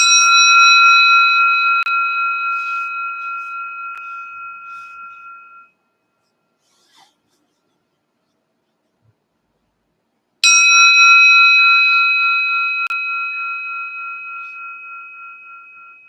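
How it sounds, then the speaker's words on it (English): A meditation bell struck twice, each clear bright ring decaying slowly over several seconds, separated by near silence, alone with no talk. "I will ring the bell"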